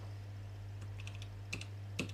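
Computer keyboard keys, including page up and page down, are pressed in a few distinct, sharp clicks spaced irregularly over a low, steady background hum.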